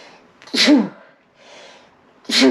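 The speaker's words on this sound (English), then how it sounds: "And I gotta sneeze." Two loud, close sneezes, each a sharp explosive burst, separated by a quieter breathy inhale between them.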